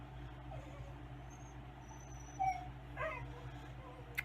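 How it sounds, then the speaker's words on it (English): A dog plays indoors, letting out a few faint whimpers and short yips over a low steady hum, with soft speech in the background. "You hear my dog, he's playing around."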